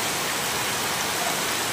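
Steady rain pours down outdoors beside a home setup for culturing tubifex worms, a dense, even hiss that stays constant throughout with no voices.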